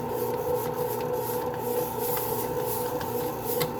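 A bread machine kneading dough at home, flour being pulled into the centre; a steady low rumbling churn with faint rubbing, continuous and moderately quiet, no speech.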